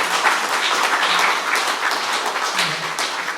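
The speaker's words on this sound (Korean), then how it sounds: "박수를 부탁드립니다" Audience at a Korean lawmaker's hometown report meeting applauding, a loud, dense wash of many hands clapping at once, steady throughout with a few louder claps punching through.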